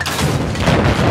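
Tank destroyed by an explosion in Battlefield 4: a loud, sustained close-range boom with a dense low rumble filling the whole short moment, no talking over it.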